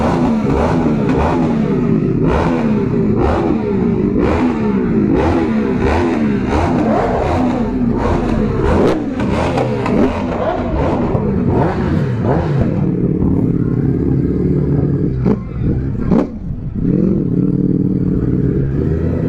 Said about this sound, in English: Alright guys, we're leaving.